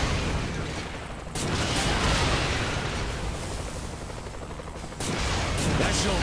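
Gunfire and explosions from a Saints Row 3 car chase, a dense, continuous barrage of shots and blasts that swells louder around the middle and again near the end.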